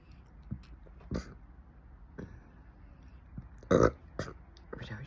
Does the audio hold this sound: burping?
yes